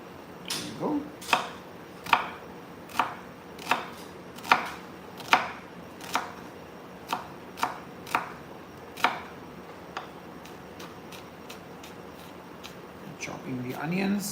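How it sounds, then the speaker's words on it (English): A knife chops onion into small dice on a cutting board, about a dozen crisp, evenly spaced knocks close by, with quiet talk around them. "Chopping the onions"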